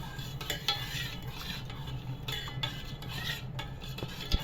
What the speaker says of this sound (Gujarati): ખોડ ચાસણી આ રીતે હલાવતા જવાનું છે.